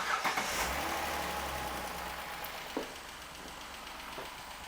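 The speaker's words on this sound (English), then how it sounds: "go ahead and start up your vehicle and just let it run for a minute" A Jeep Wrangler JK engine starts right after an oil change, a short cranking burst then settling into a steady, fairly quiet idle hum with occasional small clicks.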